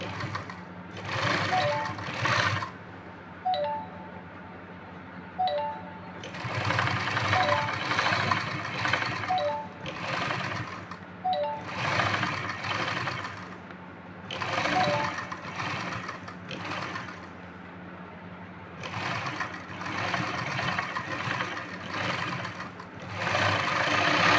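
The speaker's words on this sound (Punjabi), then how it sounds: "ਸੀਨ ਦੇ ਉੱਪਰ ਉੱਪਰ ਦੀ ਆਪਾਂ ਫੇਰ ਸਲਾਈ ਲਾ ਦੇਣੀ ਹੈ" Sewing machine stitching piping onto cloth along a seam, running in steady rapid bursts of mechanical whirring and clatter that stop and restart several times, close and fairly loud.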